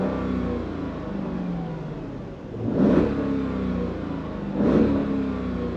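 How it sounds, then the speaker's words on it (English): A Mercedes-Benz S55 AMG (W220) engine idles with a deep steady hum, then is revved twice, each rev a swelling, muscular roar that quickly settles back to idle, heard close and without speech. "give it a few revs since this is an AMG."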